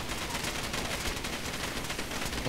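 Gunfire in the Far Cry 2 multiplayer video game, a dense, continuous burst of rapid shots with a harsh, noisy texture that fills the whole clip.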